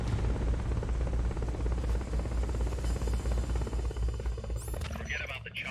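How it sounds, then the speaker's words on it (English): Helicopter rotor drone from the video game Metal Gear Solid: Peace Walker, a loud, steady low throbbing chop that runs throughout, with brighter game effects near the end. "Forget about the chopper for now."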